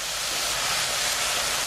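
Mushrooms stir-frying in a pan give off a steady, loud steam hiss as they release their water, a continuous broadband rush with no pauses and no talking.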